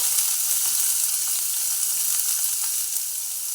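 Onion pieces frying in a pan with urad dal and cumin for a wheat dosa tiffin, a steady bright sizzle with faint stirring clicks and no voices.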